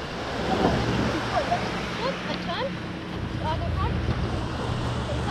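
Wind buffets the microphone at a beach while surf rumbles steadily underneath, with a few faint bird chirps and a voice or two briefly heard in the background.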